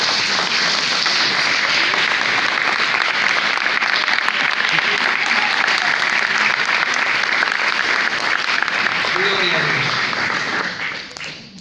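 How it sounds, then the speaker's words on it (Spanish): A church congregation breaks into loud, sustained applause that fills the room evenly for about ten seconds before tapering off at the end. "¿Cuántos aplauden a Cristo en esta mañana?"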